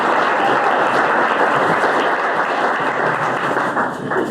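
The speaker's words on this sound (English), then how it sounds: "Let's have a round of applause for Dr. Flentje." A lecture audience applauds a professor emeritus of public affairs being introduced to speak on healthcare legislation, with steady, dense clapping that holds for several seconds and tapers slightly at the end.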